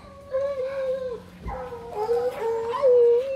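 Hunting dogs out on a wild boar hunt howl and whine in long wavering cries, several voices overlapping nearby, with a sharp thud partway through and faint background noise.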